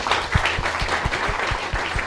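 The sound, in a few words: applause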